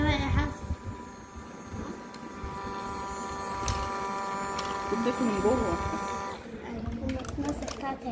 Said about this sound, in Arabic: شغالي الغسالة كده يا يمنى